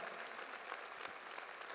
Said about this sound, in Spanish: Yo pido un aplauso para esa gente.